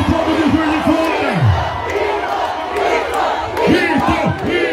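A large crowd in Juiz de Fora, Minas Gerais, shouts and roars at a political rally in loud, overlapping waves of voices, swelling and rising together.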